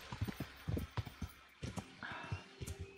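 Hooves clip-clop in an uneven rhythm on hard ground, fairly close, with a brief higher tone sounding in the middle, from a horse in the video game Kingdom Come: Deliverance.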